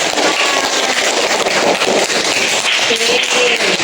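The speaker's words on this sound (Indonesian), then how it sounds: "tepuk tangan buat kita" A fourth-grade class claps together in a loud, dense burst of applause that runs steadily for a few seconds, close and continuous, with some wind noise.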